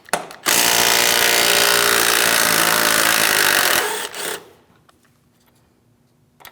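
A close, loud, steady grinding ratchet whir from a 13 mm tool runs a strut mounting bolt on a 2016-2025 Chevrolet Malibu for about three seconds, then cuts off and gives way to a few faint clicks and near silence.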